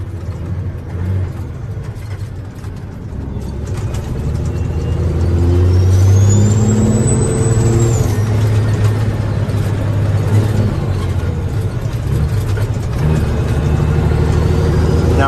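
A 1994 Peterbilt 379 truck shifts into high gear, its engine roaring loud and close as revs build and hold, with a rising whine and steady turbo drone; no one speaks.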